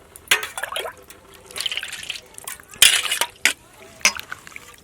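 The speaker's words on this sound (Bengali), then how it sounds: "সবজিগুলো আলু, বেগুন, কচু সব কেটে নিয়েছি। এগুলো ভালো করে ধুয়ে নিচ্ছি।" Cut potato, eggplant and taro pieces being washed by hand in water, with intermittent splashing and sloshing bursts close by, separated by brief quieter gaps.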